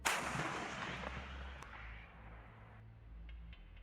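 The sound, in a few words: high explosive tank shell explosion, from the video game Minecraft MCHeli-Overdrive mod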